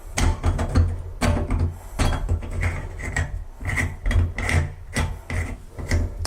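Outer part of a toilet control stop valve screwed back onto its body by hand, giving a continuous close scraping, rubbing thread rasp with small ratcheting clicks throughout.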